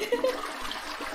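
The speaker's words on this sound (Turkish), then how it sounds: "Siz sifon çekseydin ya." A short, quiet toilet flush, water trickling and rushing faintly for about a second with no talk over it.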